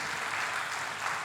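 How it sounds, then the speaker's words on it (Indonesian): Church congregation clapping together, a continuous wash of applause at moderate volume, heard alone without any voices. "Bapak Ibu, boleh kasih tepuk tangan dulu energinya."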